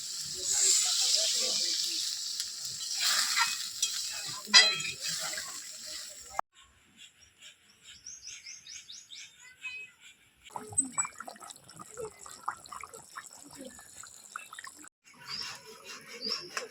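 Water is poured into a pan of potatoes and pointed gourd frying in spices for a rohu fish curry. A loud hissing surge lasts about six seconds, then gives way to quieter bubbling and scattered clinks nearby.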